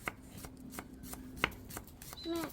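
A knife thinly slicing onions for vegetable okoy fritters, a steady run of crisp, quiet chops against a cutting board at a fairly even pace, close and clear with no talking.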